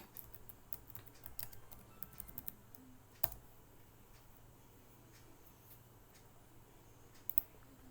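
Someone typing on a computer keyboard at a desk, a scattered run of faint, close key clicks with one sharper tap midway, then a quieter stretch before a final pair of clicks.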